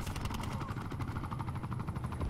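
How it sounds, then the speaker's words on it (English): A helicopter in the video game Call of Duty: Black Ops 4 gives a steady, rapid rotor thumping and engine drone, moderately loud and continuous, with no talk over it. "Got my helicopter."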